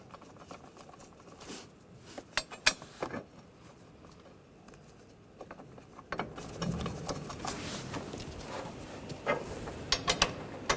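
Bolts are started by hand on a bar under the hood of a 2009-2010 BMW 535i xDrive with a 3.0L inline-six, giving scattered metallic clicks, taps and ratcheting clatter, sparse at first and then busier and denser toward the end.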